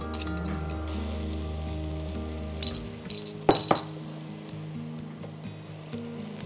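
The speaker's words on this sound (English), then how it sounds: "now the bashed up herbs go straight into the pan" Bashed herbs hit hot oil in a wok over medium heat, giving a steady sizzle over a low kitchen hum, with a couple of sharp metallic clinks from a utensil midway.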